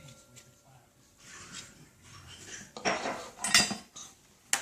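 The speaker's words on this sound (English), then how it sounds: "Are you washing dishes too?" Dishes being washed in a home kitchen while cooking: pots and cutlery clatter and clink in scattered bursts, growing louder near the end, with water-like rubbing between and a voice speaking nearby.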